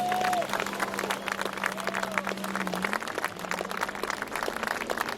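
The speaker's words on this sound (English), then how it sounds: "a big round of applause for our synchronized swimmers." Crowd clapping and cheering for synchronized swimmers at a swimming event, steady applause throughout with a low sustained tone and faint whistles underneath.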